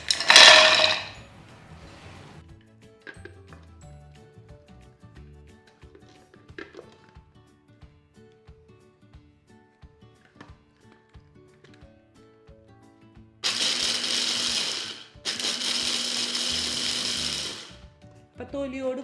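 A food chopper crushes peanuts and dried chillies with their skins on, loud grinding in two bursts of about two and four seconds near the end, after a short burst of talk at the start and a quiet stretch.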